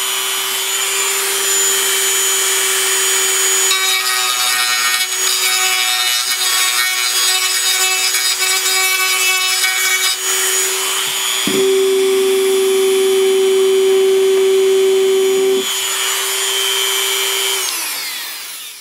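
A wooden rotor mast being trimmed deeper with a power tool, a steady loud whining drone with a strong tone that rises sharply in intensity midway, then drops back before stopping.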